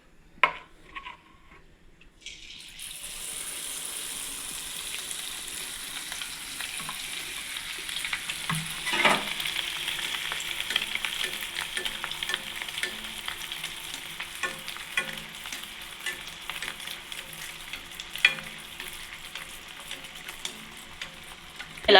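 Pongadalu batter fries on a medium flame with a steady, dense sizzle, while a spoon stirs and scrapes through the pan now and then. It is close and continuous, with no voices.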